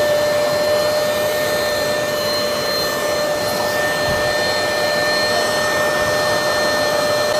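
A self-inflating camping mattress fills with air, heard as a loud, steady whooshing rush with a faint high whine, unbroken for several seconds.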